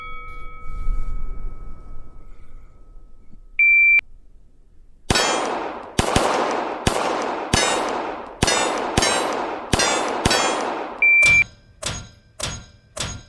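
Steel shooting targets, including a clamshell and a popper, ring out as gunfire hits them, with a quick series of sharp metallic clangs and ringing tails near at hand, set off by two short start and stop beeps from a shot timer.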